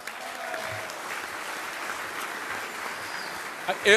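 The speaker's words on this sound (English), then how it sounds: "So give yourselves a round of applause." Steady audience applause at a monthly meeting of the San Diego County Republican Party, a sustained wash of many clapping hands at even level that swells and ends with a couple of louder bursts close by.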